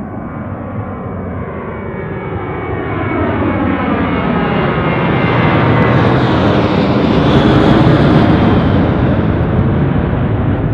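A Southwest airliner takes off from runway 1 at Reagan National. The engine roar swells steadily, with tones sliding downward as the jet accelerates past, loud and close throughout.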